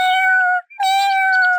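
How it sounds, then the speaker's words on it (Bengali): A cartoon cat meows twice, clear, loud and close, each a drawn-out tonal cry with a short gap between them and no talk. "কিন্তু আমার মুখ দিয়ে মেউ মেউ শব্দ হইতাছে কেন?"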